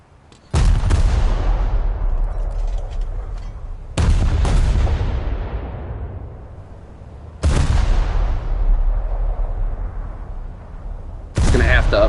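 Anti-aircraft gun in a video game fires four loud, booming bursts at roughly three-to-four-second intervals, each blast trailing off into a rumbling decay before the next.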